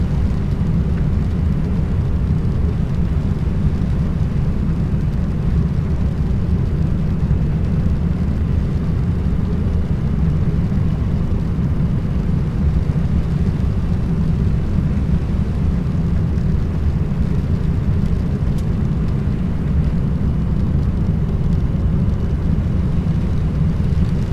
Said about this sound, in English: Aircraft is fully established now for landing.